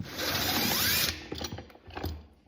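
Screws come out of a 2012 Expedition 550F clutch assembly with a close, brief ratcheting tool whir followed by a few small metallic clicks and taps; no talking.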